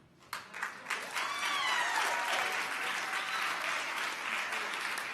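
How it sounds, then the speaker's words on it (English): Clapping at a called meeting starts with a few scattered claps, then swells into steady, full applause from a room of people that holds to the end. "every time you clap, it cuts our mics off"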